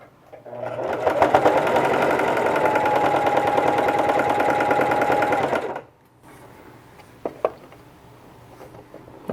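A sewing machine stitching fabric for a face mask runs loud and steady for about five seconds with a fast mechanical patter, then stops, followed by a few faint clicks and handling sounds.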